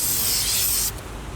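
Activator sprays in a steady, close hiss from a spray can onto Nike Air Max 720 sneakers for hydro dipping, then stops abruptly just under a second in, leaving faint background noise.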